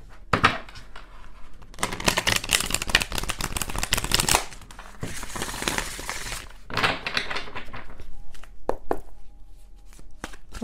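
A deck of tarot cards is shuffled repeatedly, giving close, crisp riffling and slapping bursts in irregular clusters, loud and alone with no talking.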